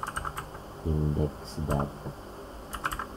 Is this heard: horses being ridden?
no